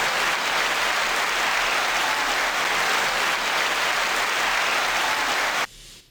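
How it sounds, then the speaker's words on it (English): An audience applauds with loud, dense, steady clapping that holds for several seconds and then cuts off abruptly. "9-second applause."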